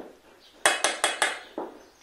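A utensil stirs a mixture seasoned with salt and pepper in a bowl, giving five crisp, close clinks against the side in quick succession, the last one softer.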